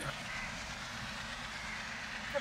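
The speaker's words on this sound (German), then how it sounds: "nur die Krähen und der vorbeikommende Zug unterbrechen die Morgenstille" Train rolling past a river landing on the Zuari River in Goa, India, near fishing boats at dawn: a steady, continuous rumble at moderate distance throughout, with one brief sharp squeak near the end.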